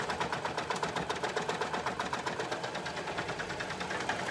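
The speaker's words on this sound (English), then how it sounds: "the next thing I'm going to do is sew this hole closed on the waistband" A sewing machine stitches a board shorts waistband closed, its needle running in a fast, steady rhythmic chatter close to the mic with no pauses and no voices.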